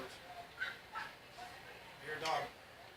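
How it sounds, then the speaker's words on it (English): A dog at a high school varsity baseball game gives a few short, faint yips and barks from a distance, spaced over a few seconds against quiet ballpark ambience. "apparently someone brought their dog to the ballpark"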